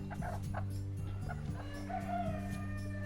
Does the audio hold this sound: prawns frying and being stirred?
no